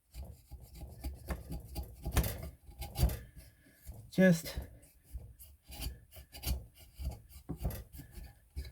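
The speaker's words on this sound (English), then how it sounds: "So I get the big chisel and I just gently" A wide wood chisel pares a mortise and tenon joint with soft, irregular scraping and rasping strokes nearby, while someone talks over the work.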